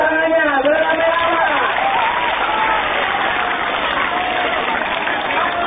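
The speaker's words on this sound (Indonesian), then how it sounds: "Mari tepuk tangannya" Audience clapping at a school marching band performance, steady dense applause throughout, with a voice speaking over it at the start.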